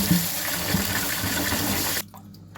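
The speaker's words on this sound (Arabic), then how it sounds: "هنحطهم في الطبق بتاعنا، هنغسلهم كويس." Lentils are washed in a bowl, with water splashing and sloshing steadily for about two seconds before the sound cuts off abruptly.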